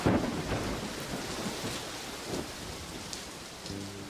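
Summer rain pouring steadily in Baja with rumbling thunder, a dense hiss of drops on surfaces and a deep low roll swelling near the start, continuous and fairly loud throughout.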